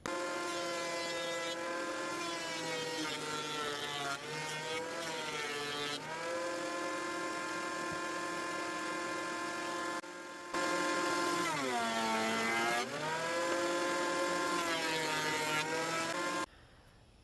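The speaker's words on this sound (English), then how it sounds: "I'm going to run them through my thickness planer just to clean them up" A thickness planer cleans up scrap wood pieces with a loud, steady motor whine and a tone that shifts as each board feeds through, running for about sixteen seconds before cutting off.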